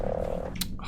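Pet toad in the video game ARK giving a short, low croak, brief and fairly quiet, followed by a faint higher chirp near the end, with no talking.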